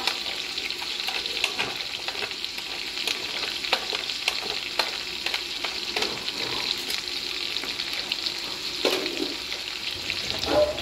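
Tiny mustard seeds crackle and sizzle in hot oil, a steady frying hiss dotted with sharp little pops, close up with no voices.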